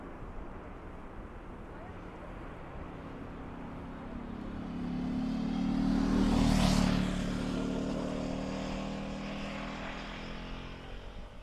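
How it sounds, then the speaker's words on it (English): An ATR 72-600 turboprop airliner arriving from Glasgow at Dublin Airport passes at a distance, its propeller drone swelling to a peak midway and then fading, over a steady background hum. "ATR 72-600 coming in from Glasgow."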